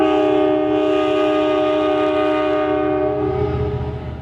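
Class 90 electric locomotive 90229 sounds its horn, a loud, sustained multi-tone blast held close by for about four seconds before fading slightly, with rail rumble underneath.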